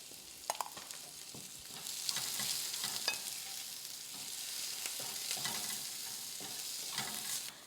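Sliced onions are sautéed in a pan with a little salt, giving a soft continuous sizzle broken by close, irregular scrapes and taps of a spatula, quiet and without speech.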